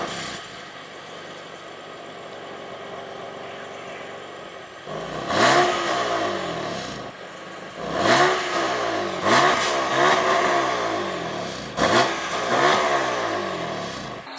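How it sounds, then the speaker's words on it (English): A BMW M4 F82 engine in efficiency mode: a quiet idle, then a loud startup, followed by several sharp revs that rise and fall, close up, with no talking. "So that startup and those revs, that was when the car was in its kind of efficiency kind of mode."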